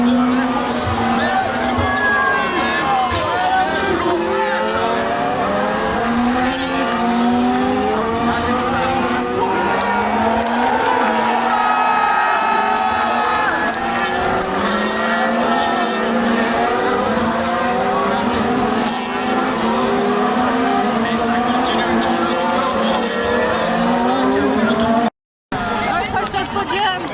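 Formula 1 cars racing at Circuit Paul Ricard during the 2022 French Grand Prix, a sustained engine roar with rising and falling pitch as cars pass, loud and continuous under crowd chatter, briefly cutting out near the end.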